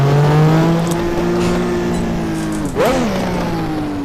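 Ninja Turbo F1 car engine in a racing game, a high steady whine that drops in pitch, cuts out briefly at a gear change, then climbs again as it revs back up.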